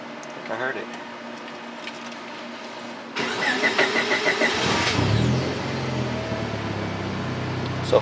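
A 1996–2000 Honda Civic engine cranks and starts after a 255 lph fuel pump install, a sudden steady idle rumble following quieter shop sounds, with a person talking nearby.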